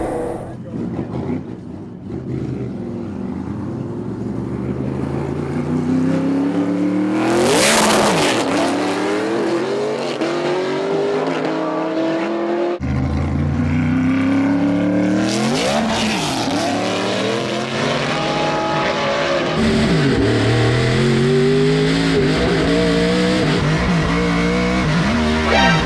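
A hand-built widebody 808hp Trans Am lines up against a time attack E36 M3 at a no-prep drag race, engines roaring loud and close, revving hard with tire squeal and rising, falling passes that stay sustained throughout.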